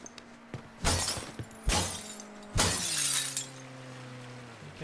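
Three loud bursts of breaking glass ring out in Mafia III, roughly a second apart, each crash trailed by scattering shards, with a low steady tone humming underneath and lingering after the last break.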